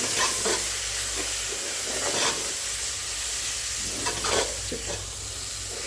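Masala chutney, about three spoonfuls, roasting in a pan for Kolhapuri kat vada, giving a steady sizzle with scraping stirs throughout, close and alone.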